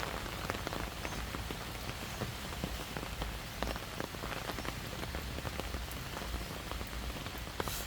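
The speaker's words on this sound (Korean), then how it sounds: "비 오는 것 한번 찍어보려고 나왔습니다" Rain falling beside a pond along a walking path, a dense steady patter of drops striking surfaces all around, moderately quiet and continuous with scattered sharper taps.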